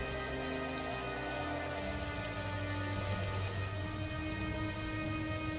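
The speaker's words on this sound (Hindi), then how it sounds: "देखते ही देखते भयंकर बारिश शुरू हो जाती है" Heavy rain pours down steadily over a village during a storm, a dense, even hiss with no breaks, heard alone and somewhat faint.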